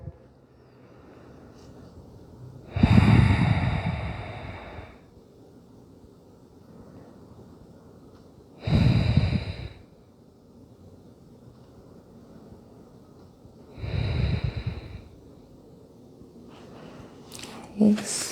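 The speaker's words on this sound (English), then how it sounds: "A few deep belly breaths here." Three slow, deep belly breaths during yoga practice, each a loud, close, breathy rush lasting about two seconds, separated by long quiet pauses.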